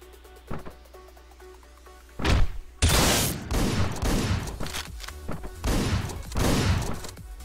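Rapid bursts of gunfire from the Hotline Miami 2 video game, starting with a sharp shot near two seconds and then sustained loud, dense volleys with brief gaps, over a faint background music track.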